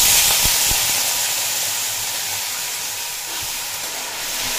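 Potatoes tossed into hot oil with whole cumin seeds sizzle in a loud, steady hiss that starts with a few sharp crackles and pops, then settles into a smooth, continuous frying sound close by.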